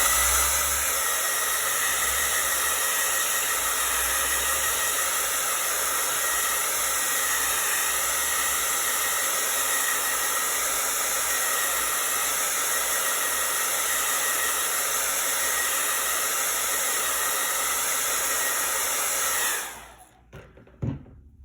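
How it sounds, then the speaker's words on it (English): Hair dryer blowing steadily up close to dry tacky paint on a gnome figure, a loud continuous whooshing roar that cuts off near the end. "Better blow it dry. It's getting a little tacky."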